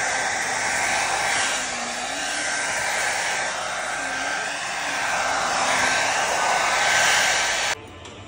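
A hair dryer blows cool air onto someone's hair at home, a steady loud whooshing hum close by that runs for about eight seconds before abruptly dropping in level at the end.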